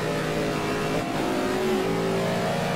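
GT race cars, a pair of BMWs and a Corvette, accelerating hard in a close pack on track, engines revving loudly and steadily with overlapping pitch climbs, no talk heard.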